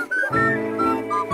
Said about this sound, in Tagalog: papatry natin sa asawa ko kung ganun din ba sa kanya kung maganda ang tunog nitong takure